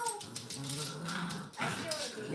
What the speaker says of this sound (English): Y'all hear my ferocious dog?